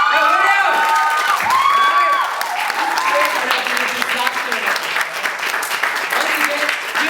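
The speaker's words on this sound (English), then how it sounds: "Let's give a round of applause to the best director we have ever worked with." Audience at a college drama club play applauds loudly and steadily throughout, with cheers and whoops rising over the dense clapping.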